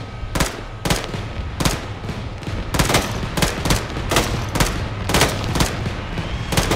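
Gunfire in the military shooter ArmA 3: a steady series of sharp, loud shots at irregular intervals, a few closely paired, over a continuous low rumble of battlefield ambience.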